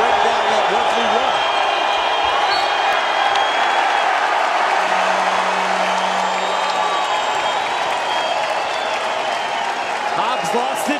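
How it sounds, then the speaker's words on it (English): A crowd roars in a college basketball arena during a Boise State versus New Mexico game, a loud sustained wash of cheering and applause that never lets up, with an announcer talking over it. "The crowd is into it."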